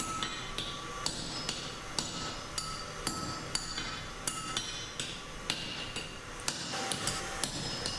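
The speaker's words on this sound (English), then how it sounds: "I start by upsetting the 10mm round bar" A hammer upsets a 10mm round steel bar at the forge, striking in sharp metallic blows at a steady rhythm of roughly one per half second, close and clear with no talk.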